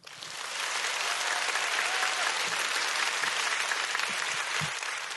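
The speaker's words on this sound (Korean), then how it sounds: "김주환 기자님을 큰 박수로 모시겠습니다" A large audience at a Korean book concert breaks into sustained applause to welcome a journalist and author, steady dense clapping that swells quickly and holds for several seconds before tapering, with no speech over it.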